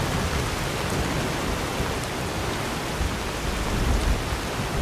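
Steady, dense rain pours through a storm in modded Skyrim, a continuous broadband hiss filling the scene with no distinct drops or thunder, loud and unbroken throughout.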